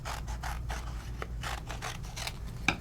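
Scissors cut through adhesive-backed paper in a quick run of close, dry snipping and rasping strokes, ending with a sharper click.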